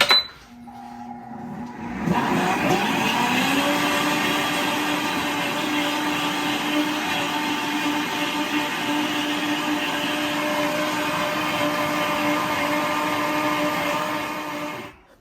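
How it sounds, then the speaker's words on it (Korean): A blender grinding tangerines starts up after a brief pause and runs steadily at full speed for a long stretch, a loud constant whir that cuts off at the end. "믹서기로 충분히 갈았어요."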